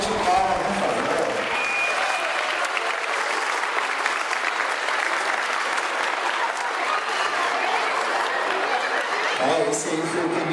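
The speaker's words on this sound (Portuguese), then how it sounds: "Uma salva de palmas, por favor." A round of applause from the audience at a school Festa Junina celebration, steady dense clapping sustained throughout, with brief voices and noise near the very end.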